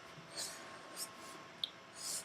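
Pencil sketching on paper, with faint soft scratchy strokes in a few brief bursts and one small tap, close and quiet.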